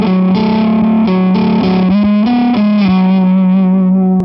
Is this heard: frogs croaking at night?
no